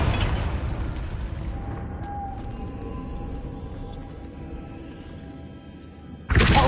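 Fire spell explosion from the Hogwarts Legacy video game, a loud sustained blast with a rumbling low roar that fades over several seconds before a sharp new burst at the end.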